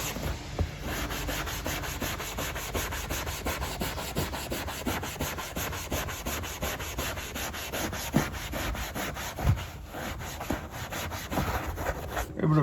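Worn leather is scrubbed hard with cleaner in quick, rhythmic back-and-forth strokes, a close, dense rubbing that keeps going at a steady pace.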